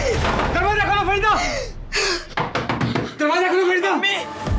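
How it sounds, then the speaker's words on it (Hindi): Someone bangs on a closed door in a tense domestic crime drama. The thuds come in an irregular cluster beneath a shouting voice, loud and close. "फरीदा, दरवाजा खोलो फरीदा,"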